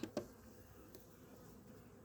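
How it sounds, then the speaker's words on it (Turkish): Yellowjackets and honey bees hum steadily around a beehive, a faint continuous buzz with a couple of brief louder knocks at the start and no talking. "Çok sarıcı arısı var."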